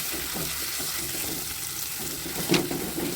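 Green chilli, ginger and garlic sauté in a pan for squid roast, making a soft, steady sizzle with a brief clink of a utensil near the end and no talking.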